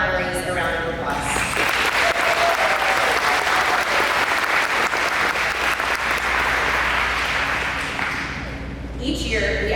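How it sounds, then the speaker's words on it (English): A graduation ceremony audience gives honorees a sustained round of applause, a dense, loud wash of clapping from a large crowd that swells, holds steady for several seconds, then fades as a voice returns at the end. "Please join me in giving all of our honorees a round of applause."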